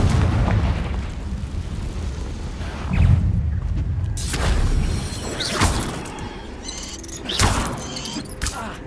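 Fiery spell blasts in a fantasy wizarding game, several loud booming explosions bursting at irregular intervals over a dense rumbling backdrop of combat effects.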